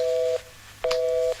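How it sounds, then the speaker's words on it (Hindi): A phone call drops into a disconnected tone: two steady electronic beeps, each lasting about a third of a second and separated by a short gap, fairly loud with no one speaking over them. "फोन कट गया।"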